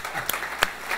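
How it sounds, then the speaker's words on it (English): Church congregation clapping hands together in praise, brief scattered claps with a couple of sharp prominent hits, fairly close and lively. "Let's stand up and give the Lord a big hand clap tonight"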